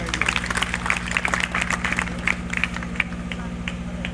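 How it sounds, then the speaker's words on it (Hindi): Crowd clapping at an ex-servicemen's memorial ceremony for a fallen soldier in Kaul, uneven and fairly loud over a steady low electrical hum, with background chatter mixed in. "जोरदार तालियां"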